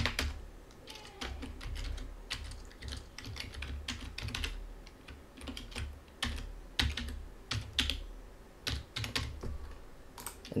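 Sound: typing on a computer keyboard

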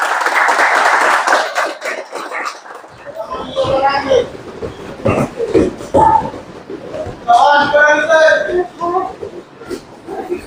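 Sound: applause, people clapping

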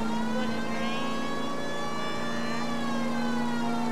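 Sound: siren blaring from a tunnel in the video game L.A. Noire

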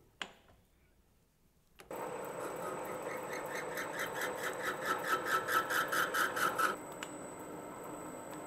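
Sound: lathe cutting tool cutting grease groove

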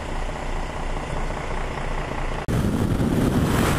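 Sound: Suzuki GSX-S1000 motorcycle engine running

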